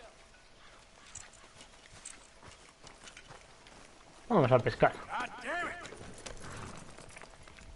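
Horse hooves clop along in Red Dead Redemption 2 as riders set off, a quiet, steady patter behind in-game voices, with one louder burst of speech midway.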